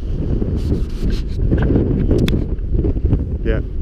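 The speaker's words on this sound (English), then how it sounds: "Rain's come in. Wind's picked up." Strong wind at a night wild camp at Black Sail Pass in the Lake District, with rain, buffets the microphone in heavy, rumbling gusts, with rustling and flapping noises mixed in.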